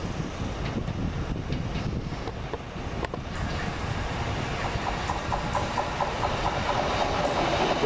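At Weston-super-Mare station, a train arriving from Bristol Parkway rumbles and rattles steadily alongside the platform, with wind buffeting the microphone and no talk.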